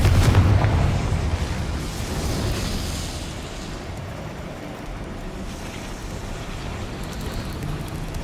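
Confringo blasting spell in Hogwarts Legacy on PS5 going off as a loud booming explosion at the start, then a rumbling decay trailing into a low noisy ambience.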